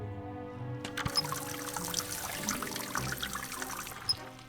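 In The Raven, water pours from a tap onto a rag, a steady splashing rush at moderate loudness that fills the whole stretch over faint background music, with no voices.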